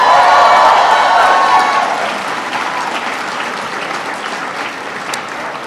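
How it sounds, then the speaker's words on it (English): A large audience at an Asian Pacific American awards gala gives a warm, sustained round of applause, loud at first and then easing to a steady, softer wash of clapping and crowd noise. "Can everybody please give a big round of applause to Judy Chu for her outstanding service?"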